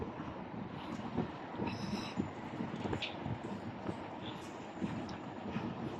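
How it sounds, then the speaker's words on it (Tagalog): Strong wind buffets the microphone steadily during a ride at about 25 km/h, a broad rushing roar with gusty swells and low rumble throughout, no talk. "25 lang takbo, ang lakas ng hangin."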